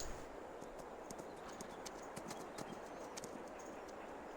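Rapid clip-clop of galloping horse hooves in the video game Farming Simulator 22, steady and rhythmic, heard alone over a constant background hiss.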